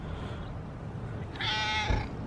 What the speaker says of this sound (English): Hey Oreo, crazy cat.